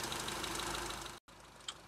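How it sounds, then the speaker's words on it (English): A 1983 Triumph Acclaim HL with the E-Series EN4 single overhead cam engine idles, a steady even pulsing beat heard close up, briefly cut off before resuming. "It is a brilliant engine and it sounds absolutely fantastic."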